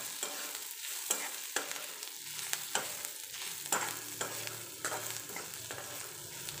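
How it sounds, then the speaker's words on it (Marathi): Tomato chutney with onion, garlic, spice mix and mustard seeds is stir-fried in a pan, with repeated close spatula scrapes over a soft continuous sizzle. "हे छान पद्धतीनं परतून घ्यायचं."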